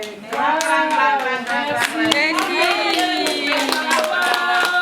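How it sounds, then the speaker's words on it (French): Hands clap at a cosmetics training graduation ceremony, with scattered sharp claps under a voice speaking or singing in a steady, melodic line throughout. "Applaudissez fort"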